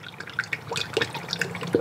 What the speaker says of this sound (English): So now I'm adding the water wetter in between gallons.